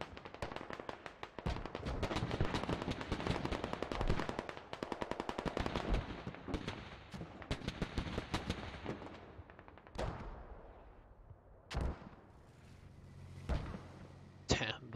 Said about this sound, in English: those mortars still getting a couple kills